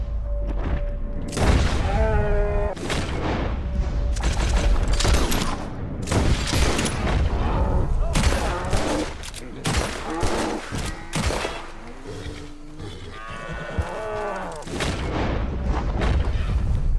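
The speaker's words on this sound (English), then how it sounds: "So I am going to shoot it." Gunfire in Red Dead Redemption 2 as a bull is shot: a rapid fusillade of loud, booming shots and heavy thuds over a sustained, dense game soundscape, with a brief voice in the mix.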